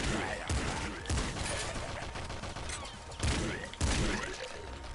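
Repeated shotgun blasts from Nuclear Throne, a top-down shooter game, firing in loud, irregular bursts with sharp cracks and thuds about every second amid dense, noisy game action.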